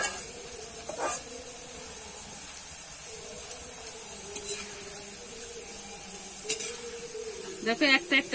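Shredded potato sizzles as it fries in hot oil over a strong flame, a steady broadband hiss with occasional clinks and stirring scrapes, louder bursts near the end.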